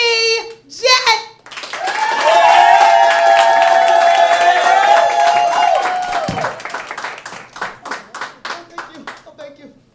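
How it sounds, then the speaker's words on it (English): A studio audience claps and cheers for a guest at a talk show anniversary event, with sustained applause and a sung or shouted tone over it, then scattered claps fading out. "if you could help me to give a round of applause to my first guest, Brittany Jett."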